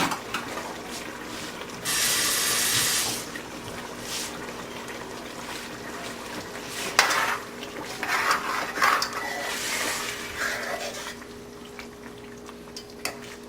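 Pork loin stew in a pot being stirred as tomato sauce is mixed in: a loud scraping burst, then intermittent wet swishes and scrapes over a steady low hum.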